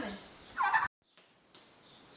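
Turkeys gobble inside a workshop, a loud burst of calls followed by a silent gap and then fainter, scattered bird sounds in the background.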